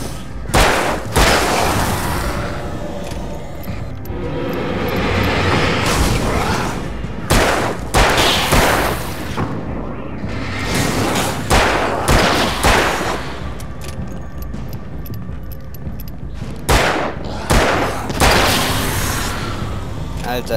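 Rapid bursts of gunfire in the video game Alan Wake crack repeatedly over a continuous loud backdrop, shots clustering in volleys with brief gaps, like intense combat.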